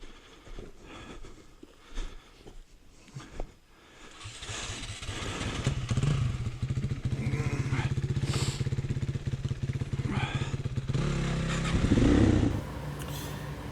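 A heavy Suzuki DRZ dirt bike labours through mud, its engine droning steadily and revving harder near the end, close and loud after a quieter stretch of scuffling noise.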